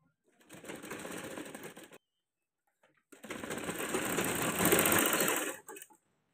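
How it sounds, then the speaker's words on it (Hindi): A sewing machine runs close by, stitching a folded fabric strip onto a kurti neckline, in two steady runs separated by a brief pause and ending with a short final burst. "इसको सिलाई लगा लेंगे।"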